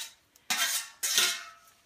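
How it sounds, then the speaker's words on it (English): A metal spoon clinks twice against a pot or bowl while lifting blanched Swiss chard into ice water, two bright close scrapes with no talk. "now we're just going to take a spoon and get it right into the cold water so that we can stop the cooking"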